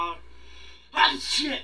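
One loud, close sneeze bursts out from a person, right after a brief voiced sound.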